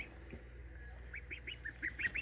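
Baby Pekin ducklings give a run of high, thin peeping quacks, starting faintly and growing into a quick series of close calls over a low background hum.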